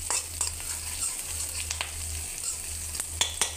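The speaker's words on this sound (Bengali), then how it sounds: "এবার পেঁয়াজ, রসুন, কাঁচামরিচ একটু ভেজে নেব লাল লাল করে" Onion, garlic and green chilies fry in oil in a pan, producing a steady close sizzle with scattered sharp pops and light stirring clicks; nobody talks.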